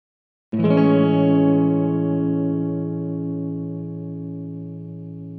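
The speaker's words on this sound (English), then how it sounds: "a plate reverb, that's an imitation of the old plate reverbs" A plate reverb setting on a TC Electronic Hall of Fame 2 pedal rings out on a single sustained guitar chord, struck once and left to bloom into a long, smooth, shimmering decay that fades slowly over several seconds.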